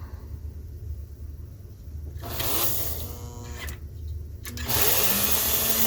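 The electric motor of a 1946 American Flyer #300 4-4-2 Atlantic model locomotive runs forward on the bench, with a low hum that swells into a close, high whirring whine in two bursts, each rising sharply as the motor speeds up.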